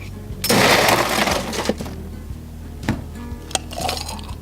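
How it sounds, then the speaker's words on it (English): Ice cubes drop into a glass of kombucha mojito with a loud rattling clatter, followed by a few scattered clinks as the cubes settle. "Then I'm going to top it off with some ice."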